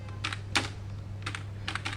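Computer keyboard typing over a steady low electrical hum, short bursts of key clicks in small clusters, close and clear while text is entered for a LaTeX Beamer presentation.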